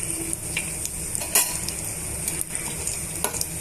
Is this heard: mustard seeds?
yes